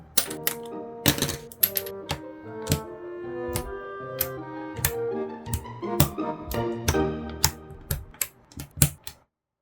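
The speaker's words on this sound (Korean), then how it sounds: "스티커를 분리해 줍니다." Acrylic stickers peeled from their sheet, giving a rapid series of sharp clicks and snaps with brief plasticky crackles between them, close and crisp with no voices.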